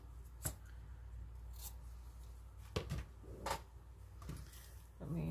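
Scissors snip a few times while trimming fabric for a double-pocket belly band, with soft, brief cuts and light handling noise in a quiet room.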